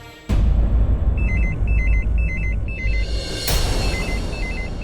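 A hotel landline telephone rings in a repeated electronic trill, several bursts in a steady pattern, fairly close and clear over a low background hum, with no talking.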